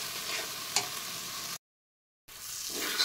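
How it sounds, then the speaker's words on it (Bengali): Ground spices loosened with a little water are stir-fried in a pan for a milk-based fish curry, giving a steady hissing fry with faint scraping, cut by a short silent gap before the sizzle returns. "তো এখন আমি এই সব কিছু মশলা আরও কিছুক্ষণ নেড়ে চেড়ে ভেজে নেব।"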